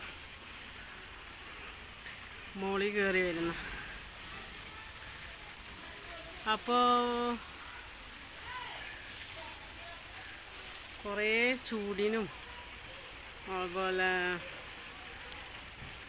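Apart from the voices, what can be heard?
first light rain drizzling in Pune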